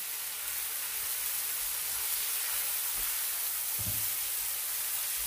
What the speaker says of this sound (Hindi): तो थोड़ी देर भून लेंगे। फ्लेम थोड़ा हाई करते हैं।